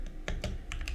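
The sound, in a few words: typing on a computer keyboard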